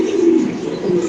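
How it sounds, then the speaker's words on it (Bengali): A female Indonesian Beauty pigeon coos close to the microphone: a short, low, throaty rolling coo that rises and sustains briefly, heard alone. "ইন্দোনেশিয়ান বিউটি একটা মাদি কবুতর"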